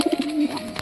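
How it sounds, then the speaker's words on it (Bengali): A pigeon gives a close, clear, low cooing call, a few quick throaty pulses running into a drawn-out coo. "পায়রার ডাক দেখো।"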